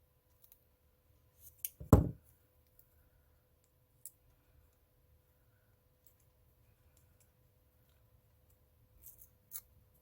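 Scissors make one quick, clear snip through die-cut paper for a paper calendar, then only a few faint clicks follow in an otherwise quiet room.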